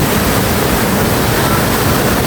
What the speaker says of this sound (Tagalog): So ang tendency ay tumakbo yung tubig papunta doon.